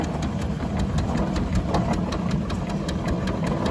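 An American-design ploughing engine runs at an old time rally, its steady rapid mechanical beat chuffing and knocking evenly, loud and close with no talk over it.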